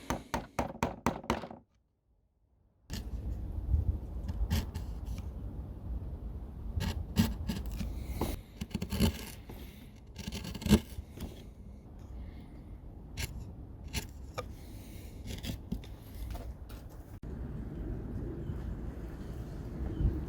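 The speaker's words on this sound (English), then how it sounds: "I just had to do a bit of cleaning up with some of the edges with a chisel" A chisel scrapes and cleans up the edges of wooden coasters, giving close, quiet rasping strokes in irregular bursts with occasional knocks and taps, preceded by a quick series of sharp clicks.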